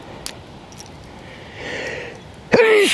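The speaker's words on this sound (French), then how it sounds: "Ah putain, j'éternue sur la caméra" A single sharp sneeze right into the camera mic by a riverbank, loud and abrupt after a quiet stretch of outdoor background noise and a soft breath.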